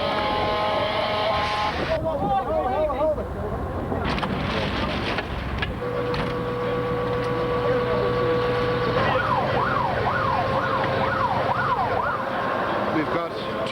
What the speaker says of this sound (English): We believe there's about 3 ambulances, at least 2 fire engines going